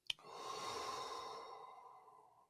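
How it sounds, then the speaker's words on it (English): One deep, slow breath taken close to the microphone, a soft click at the start and then a long, airy exhale or inhale that gradually fades over about two seconds; quiet, with no talking. "don't underestimate the value of one conscious breath"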